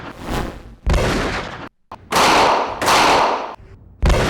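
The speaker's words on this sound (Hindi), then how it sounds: "एक दूसरे की जानिब से घबराहट में चलने वाली गोलियां" Loud bursts of gunfire in quick succession, harsh cracks separated by brief gaps, close and sharp.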